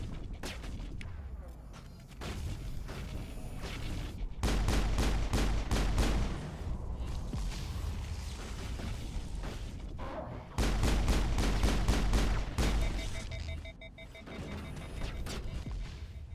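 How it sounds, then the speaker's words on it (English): Pistol gunshots in the video game Mass Effect, part of a dense, continuous volley of rapid-fire shots with heavy booming bursts that rise and fall across the stretch, loud and alone. "get the pistol out"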